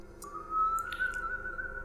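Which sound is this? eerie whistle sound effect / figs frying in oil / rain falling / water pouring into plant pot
eerie whistle sound effect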